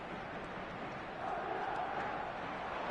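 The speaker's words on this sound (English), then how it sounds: "the crowd are reacting to that now" Steady roar of a football stadium crowd in the PES video game, a continuous wash of massed voices that swells slightly louder partway through, with no speech over it.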